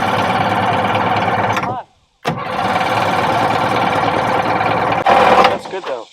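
Barn-find jet ski engine cranking and running loudly, a steady rough mechanical drone that cuts out briefly, restarts, and revs up near the end, with a voice speaking over it.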